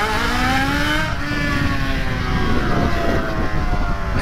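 Yamaha XJ6 motorcycle engine revving hard, a loud, close roar with rising and shifting tonal whine that carries continuously, briefly dipping before building again.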